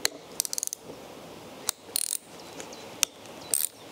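Ratchet clicking while nuts come off an old, rusty starter motor being rebuilt, in several quick bursts of close, crisp ratcheting separated by short pauses.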